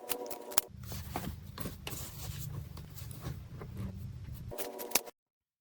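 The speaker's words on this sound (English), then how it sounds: "now we're going to cut off these zipper tabs here" Scissors cutting the zipper tabs off a sewn travel sling, with a run of soft rustling and scraping handling sounds and a couple of sharper clicks near the start and end, close and fairly quiet.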